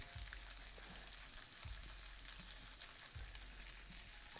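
Sierra fish frying in a little oil over high heat, a faint, steady sizzle with a few low bumps from the pan, no voices.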